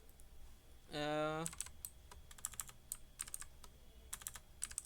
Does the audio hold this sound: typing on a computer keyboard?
yes